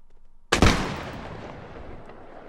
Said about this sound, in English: That's just a 60th chosen man who's still shooting